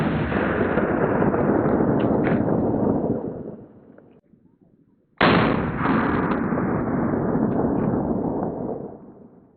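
Powerful handgun fired at Level IIIA+ special threat body armor, two long roaring booming blasts with a brief dip between them, very loud and close, outdoors on a shooting range.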